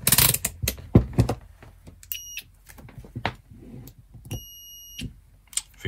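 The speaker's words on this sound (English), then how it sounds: "I checked the fuse in the plug with a meter set on continuity" A multimeter set to continuity gives two short, clear electronic beeps while testing the fuse in a soldering iron plug, heard among light handling clicks and thuds.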